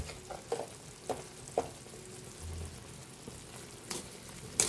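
Chicken adobo frying in a pan being stirred, a steady soft sizzle broken by several scraping and clinking utensil strokes against the pan, with no voices.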